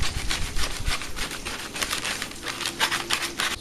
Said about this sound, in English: we're basically just gonna cut the bread across the disc